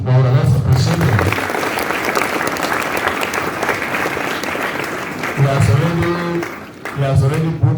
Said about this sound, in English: I want all of us to give him a round of applause to Nyanjui Patrick Maura